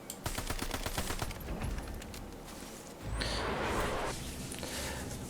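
Rapid automatic gunfire from the video game Call of Duty Warzone during a gulag duel, with dense bursts of shots early that give way to a louder, sustained roar of gameplay noise.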